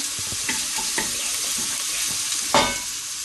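Lamb mince and onions frying in a pan for shepherd's pie, a constant bright sizzle punctuated by stirring knocks and a sharper clatter near the end, with no talk.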